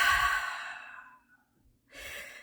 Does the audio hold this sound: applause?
no